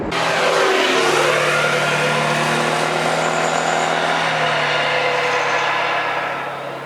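Honda Forza scooter cornering at speed, its engine giving a steady, loud mid-pitched drone throughout, with wind rush layered over it and no voices.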